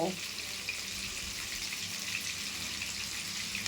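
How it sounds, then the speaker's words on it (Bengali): Potatoes with turmeric and salt frying in a pan, an even close sizzle hissing throughout the short stretch, a voice briefly at the very start. "একটু হলুদ দিচ্ছি, এরপরে নুন দেব, দিয়ে ভেজে নেব"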